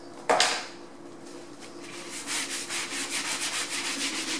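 A pot scrubber rubs back and forth over a painted motorized projection screen, starting with a sharp knock, then settling into a steady, close scraping rhythm of repeated strokes with no talking.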